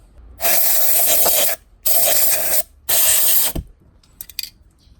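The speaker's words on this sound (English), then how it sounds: "I'm gonna use the air canister first. So I'm gonna do that now." Three long bursts of compressed air hissing from a canister while cleaning an Audi Q7 blower motor, each about a second or less with short pauses between, loud and close, followed by faint clicks.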